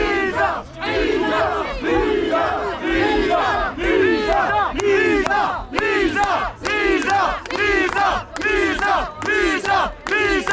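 A large crowd of biathlon fans at the Winter Olympics in Milano-Cortina, with supporters from Bohinj cheering for Lena, roars and chants in loud rhythmic waves, the cheering pulsing continuously with brief dips.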